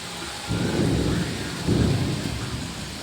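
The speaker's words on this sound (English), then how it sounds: "This is heavy rain." Heavy rain pours steadily in Riviera Beach while two rolls of thunder swell loudly over the constant downpour.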